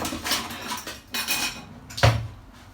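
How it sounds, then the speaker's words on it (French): Spatula scraping and clinking against a bowl as butter is mixed in for an apple tart, several irregular clatters building to one sharper knock near the end, close by with no talking. "Voilà, et je mélange."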